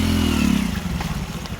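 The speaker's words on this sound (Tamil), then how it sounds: "பைக்கு போகுது." A motorbike rides through a flooded street in Virudhunagar during heavy rain, its mid-pitched engine droning loudly up close and then fading, with splashing and clattering as it passes.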